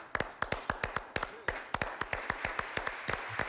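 One person claps steadily, around sixteen crisp, evenly spaced claps in quick succession, close and alone with no talking, during a Spanish-language sports gaming broadcast.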